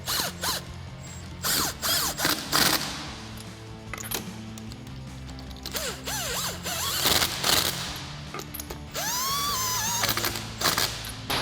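Impact wrench snugging lug nuts on a 2005-2022 Toyota Tacoma during a brake rotor and pad job: repeated short ratcheting, rattling bursts, near and fairly loud, separated by gaps with clanks and handling noise.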